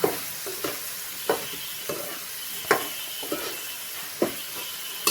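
Mutton keema balls frying in a pan, with a steady sizzle broken by several sharp stirring scrapes and spatula clinks spaced through the clip, close and fairly loud, with no voices.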